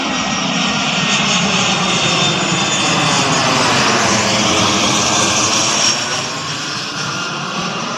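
An AirAsia airliner on a domestic flight passes overhead near Heritage Park in Fort Bonifacio, its engines a loud, continuous roar that sweeps in pitch as it flies by, heard alone.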